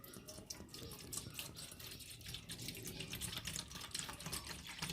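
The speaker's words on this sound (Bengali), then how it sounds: "পাত্র নিয়েছি, তো পাত্রের মধ্যে কিছুটা জল দিয়ে নেব।" Water runs from a tap into a cooking pot for soaking dalia, a continuous faint splashing stream with no speech.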